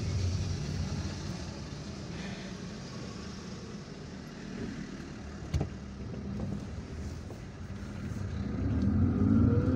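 Car engine rumbling and accelerating in Algiers city traffic during an overtake, a steady close interior drone that swells toward the end, with a brief knock midway.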